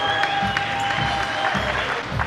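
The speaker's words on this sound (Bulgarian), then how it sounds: "Аплодисменти за победителите" A crowd applauding the winners at a national breakdance championship, steady dense clapping that carries through from start to end without a break.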